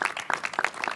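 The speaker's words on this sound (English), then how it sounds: "So if we can give him a round of applause." A brief burst of scattered audience clapping at a press conference, a quick run of separate hand claps at moderate volume that stops after about a second.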